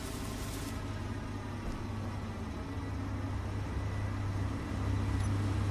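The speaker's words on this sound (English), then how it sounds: "Hearing all these engines, we should probably turn some of these off" Vehicle engines running in a video game, a steady low idling rumble with a constant broadband drone, unchanging and fairly loud, with no talk.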